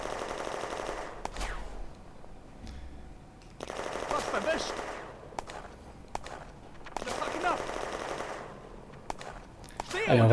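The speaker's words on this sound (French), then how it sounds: "Ah, il y a de l'infanterie aussi qui tire." Infantry gunfire in the war video game Firefight, repeated bursts of machine-gun fire separated by single sharp shots and lulls, mid-distance and moderately loud, with some background clatter and a louder blast at the very end.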